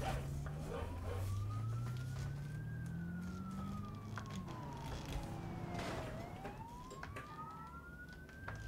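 Police car sirens wail in the BeamNG.drive video game, rising and falling steadily across the whole stretch over a constant low engine and traffic rumble, with no talking.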